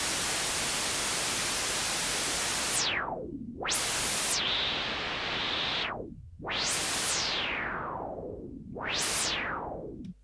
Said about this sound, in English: turn off the oscillator, just down with that, and up the white noise